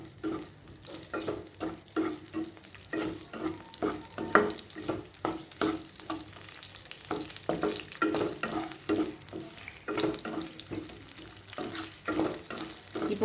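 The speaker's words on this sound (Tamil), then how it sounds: "ஆனியன் நல்லா வதங்கட்டும்" Onions sautéing in a pan for a capsicum onion curry, with a soft frying sizzle and repeated rhythmic stirring scrapes of a spatula, close and fairly quiet.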